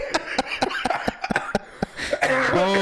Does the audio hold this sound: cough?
yes